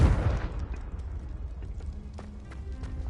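Confringo blasting spell going off in Hogwarts Legacy, a loud low boom at the start that fades into a rumbling tail, followed by faint scattered game effects.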